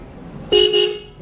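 A single sharp, bright toot from a new horn on a Volkswagen Polo 1.2 car sounds close by, lasting about half a second after a low background hum.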